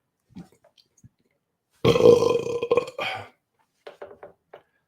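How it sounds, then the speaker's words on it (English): One long, loud, rumbling burp from a person nearby, close to the mic after eating a cherry, followed by a few faint small throat sounds. "you're just being subjected to my burps"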